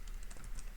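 Code is typed on a computer keyboard in a short, steady run of soft key clicks, close and fairly faint, with no talking.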